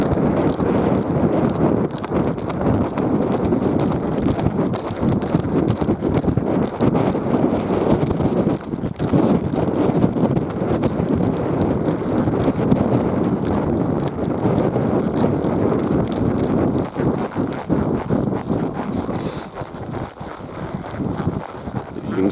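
A 13-year-old Spotted Saddle gelding's hooves thud in a steady, rolling three-beat lope, continuous and fairly close, with a constant background rumble throughout.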